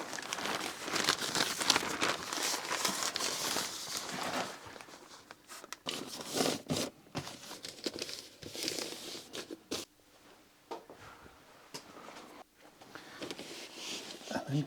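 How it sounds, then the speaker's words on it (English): A piece of plastic trash bag crinkles and rustles in uneven bursts as it is handled and fitted inside a Porsche 924, close-up and scratchy with quieter gaps. "I have cut a piece of plastic bag that I normally use for trash"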